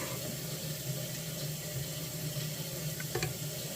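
A quiet, steady stream of hot water running from a tap into a cup, a faint hiss with a brief splashy change near the end.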